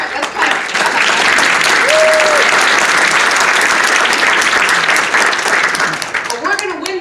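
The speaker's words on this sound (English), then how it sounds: "all right, let's clap" Audience applause at a political campaign rally in Livonia, Michigan, a loud, dense roar of clapping throughout, with a voice briefly audible over it and talk resuming near the end.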